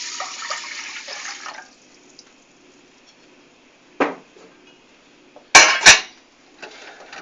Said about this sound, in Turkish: 3 su bardağı suyumuzu koyuyoruz.